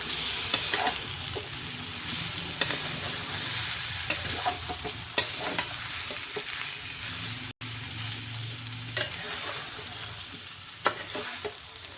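Chicken curry being stirred in a pan with coriander leaves and slit green chillies, a steady frying sizzle broken by repeated scraping stirs and occasional sharp utensil knocks, close up and with no voices.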